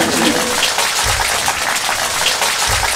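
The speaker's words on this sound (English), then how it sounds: "Give me a big applause and I will disappear." Audience applause at a talk, a continuous dense hiss-like clapping that fills the whole stretch, close and steady, with a couple of low thumps beneath.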